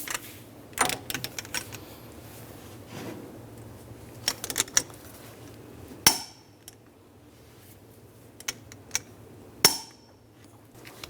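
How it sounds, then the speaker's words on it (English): Metallic clanks and a ratcheting wrench torquing the axle hub nut on a 2003-2008 Infiniti FX35 during a front wheel bearing and hub replacement, a few scattered sharp knocks close by with quiet gaps between. "we're going to torque this nut to"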